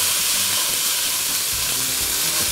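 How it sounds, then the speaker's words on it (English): Steady broadband sizzle of ground beef frying in a hot pan on medium heat, continuous and close, with faint scraping underneath. "I'm gonna pop that into my frying pan"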